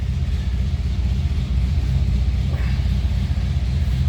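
A 1948 Ford Super Deluxe Coupe engine idling steadily after starting, a deep continuous low rumble that stays even and close throughout with no talk over it.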